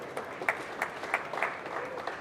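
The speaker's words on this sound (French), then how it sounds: "Vous pouvez l'applaudir, vraiment." Scattered, modest clapping from an audience at an outdoor industry awards ceremony, heard as soft, fairly distant claps with no talk over it.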